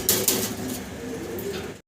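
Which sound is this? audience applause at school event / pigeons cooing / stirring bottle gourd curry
pigeons cooing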